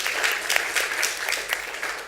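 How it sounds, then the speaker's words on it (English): Audience applause at a civic meeting with the mayor, a steady wash of many hands clapping at moderate loudness, lasting throughout without talk. "So please give a round of applause to Darlene."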